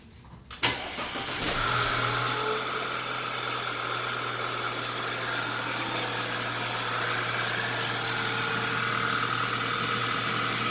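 A 2010 Audi B8 A4 2.0T engine, fresh from an Injen cold air intake install, catches with a sharp start and then settles into a steady, continuous idle, with an air pump running alongside it.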